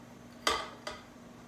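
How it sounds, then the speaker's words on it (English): A spatula scrapes and knocks softened butter against the side of a mixing bowl in two quick, close strokes, the first louder, in an otherwise quiet kitchen. "Use my little spatula to get every little bit."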